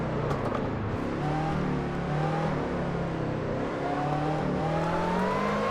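Race car engine in Assetto Corsa career mode, revving and pulling through the gears with rising pitch sweeps, a loud continuous drone with no talk over it.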